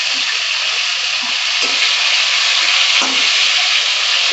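A loud, steady close-up sizzle of pointed gourd frying in oil with salt and turmeric, with a few soft stirring scrapes and taps scattered through and no voices.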